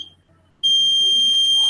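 A shrill electronic buzzer on a laser security alarm switches on abruptly after a brief faint tone and then sounds continuously, loud and piercing, with no talking.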